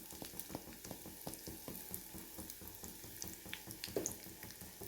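Spices sizzling and frying in hot oil in a pan, with a steady crackle and spatter of small pops close up, with no talking.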